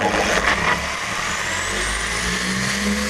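A machine polisher runs on a car's paintwork, a loud, continuous close-up motor whine and drone with its pitch rising slowly as the speed is turned up.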